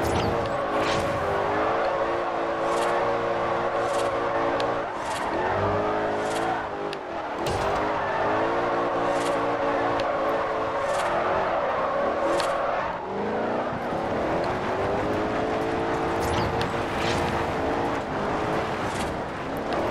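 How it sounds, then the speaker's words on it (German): A car in Forza Horizon is drifted in second gear, its engine revving hard and rising and falling across repeated slides, with tire squeal and skidding running steadily through the whole stretch. "Ich probiere jetzt einfach mal die Driftmethode im zweiten Gang."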